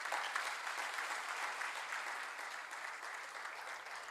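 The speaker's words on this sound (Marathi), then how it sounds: "त्यांच्यासाठी जोरदार टाळ्या." Sustained applause from an audience at an Art of Living awards ceremony in North Maharashtra, greeting a trustee; steady, dense clapping with no voices over it, easing slightly toward the end.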